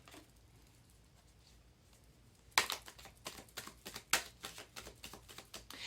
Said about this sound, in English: shuffle some tarot for you here.